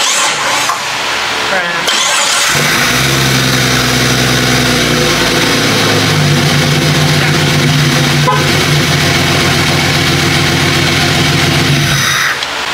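A Jeep Grand Cherokee with a newly built turbo setup cranks over, catches and settles into a loud, close idle with a slight rev, then shuts off near the end. Faint talk can be heard around the engine.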